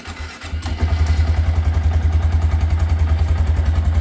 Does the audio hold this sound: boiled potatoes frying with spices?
no